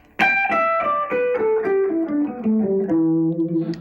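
An electric guitar plays a pentatonic scale with distortion, descending note by note in a quick run. The tone is bright and sustained and the playing is close, with no talking.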